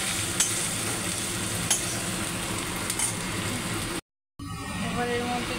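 Ground cumin frying and being stirred in a pan of oil, a continuous sizzle with scraping strokes and light utensil taps, broken by a brief silence before the sizzling resumes.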